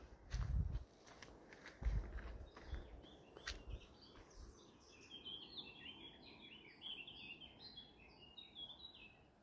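In a freshly leafed-out spring forest, a few crunching footsteps come first, then many small birds chirp and twitter in quick overlapping bursts, faint and fairly distant in a quiet setting.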